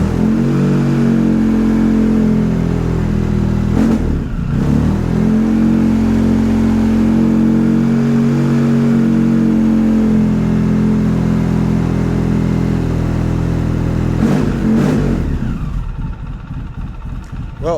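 A Polaris Sportsman 700 ATV engine runs steadily nearby with a loud, even mid-pitched drone and vibrating hum, interrupted by a few brief clunks before it settles and fades slightly at the end.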